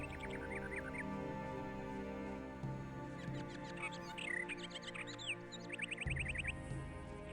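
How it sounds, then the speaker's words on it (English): Ambient birdsong in the Gothic 2 video game, several small birds chirping and trilling in scattered bursts over a steady low game background drone, moderately clear with no speech. "Nice ambient sounds, birds chirping."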